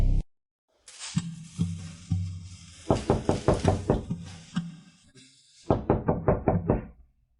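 Knocking on a door late at night: several bursts of sharp, evenly spaced raps, with a longer run in the middle and a final quick series after a pause. The knocks are loud and close, with no talking.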